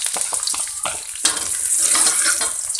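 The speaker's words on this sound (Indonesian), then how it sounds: "Ini minyaknya sudah panas, saya mau langsung saja tumis bawang merahnya." Shallots sautéing in hot vegetable oil: a loud, steady crackling sizzle with broadband spitting, interrupted by a few sharp clatters of stirring in the pan.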